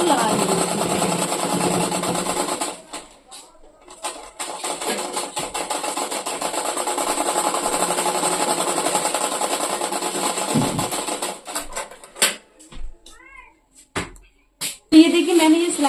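A sewing machine stitches a skirt with a steady, close mechanical whir that runs for long stretches, pauses briefly, then breaks into short stop-start bursts near the end.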